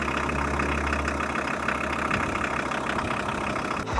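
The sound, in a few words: VW T4 campervan engine running after starting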